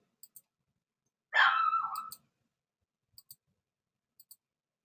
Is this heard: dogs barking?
yes